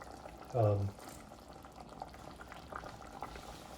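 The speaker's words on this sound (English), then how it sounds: "wait for the noodles to cook" Noodles boiling in a spicy soup, a soft continuous bubbling in a pot heard close and faint, with a short low voice-like sound near the start.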